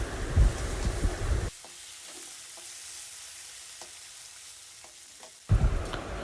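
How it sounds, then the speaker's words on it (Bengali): Prawns coated in ground spices, ginger-garlic paste, turmeric, chilli powder and salt frying in hot oil; loud crackling sizzle at the start and end, with a quieter stretch of faint crackles between. "প্রথমে আমরা চিংড়ি মাছটাকে ভালো করে ভেজে নেব"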